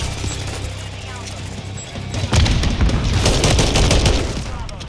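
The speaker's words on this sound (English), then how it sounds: "Yes! That was the Semtex!" Semtex grenade going off in Call of Duty: Modern Warfare III on the Stash House map, a sudden burst amid ongoing gunfire and game noise, fairly loud and close with no speech over it.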